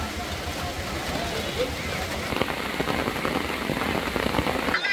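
Rain falls at a village market on a rainy day, a dense steady patter on surfaces with scattered drips, growing heavier midway, while people talk in the background.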